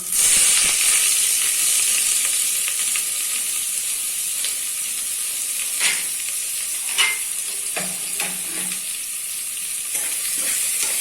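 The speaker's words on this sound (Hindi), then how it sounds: "प्याज को अच्छे से भून लेना है।" Chopped medium onions frying with whole spices in a pan for homemade chicken curry, a bright continuous hiss and sizzle with occasional spoon scrapes and clinks, steady and fairly loud.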